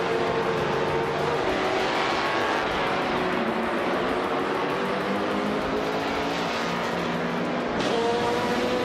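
A Ferrari F360 GTC race car engine roars steadily in a racing video game, its dense, continuous drone mixed with other cars on track, loud and unbroken throughout with no voices.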